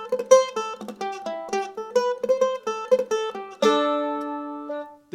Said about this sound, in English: There's a stuttered or dampened triplet where we're going to kill the first two notes of the